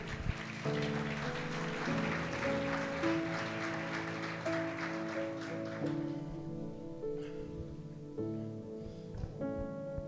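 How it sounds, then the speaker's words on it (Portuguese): Congregation applauding during a church service, a steady broadband wash of clapping sustained under organ or keyboard chords that continue throughout, with the clapping thinning toward the end while the music carries on. "Você pode aplaudir o Senhor aí?"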